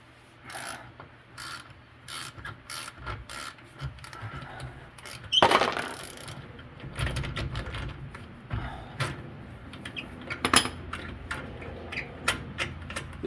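A ratchet with a 21 socket on a lug removal tool works a locking wheel lug nut, giving scattered clicks and grinding, ratcheting bursts at close range, with a brief loud scrape midway and some quiet talk.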